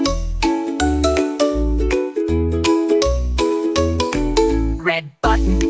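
A toy baby phone plays a bright, mellow ringtone melody of repeated chiming tones in a steady bouncy rhythm, loud and close, with a short break near the end before the tune resumes.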